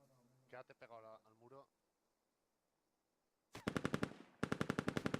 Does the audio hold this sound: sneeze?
no